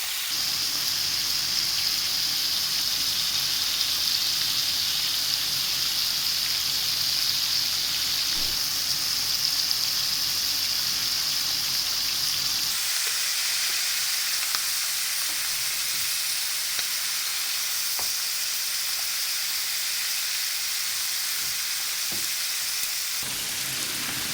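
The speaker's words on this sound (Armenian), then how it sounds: "թողնում ենք, որպեսզի հավի միսը լավ կարմրի, բոլոր կողմերից կարմրացնում ենք" Chicken wings sizzle in a pan as they are browned on all sides, a loud steady hiss of hot oil that continues throughout and eases slightly partway in, with no voices.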